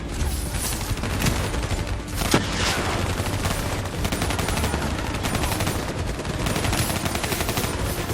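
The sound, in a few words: turret gunfire in video game Call of Duty Black Ops III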